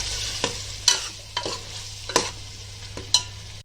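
Masala and tomatoes frying for a Konkani chicken pulao, with a spoon scraping and stirring the pan in about five regular strokes over a steady low sizzle, close and clear, no voices.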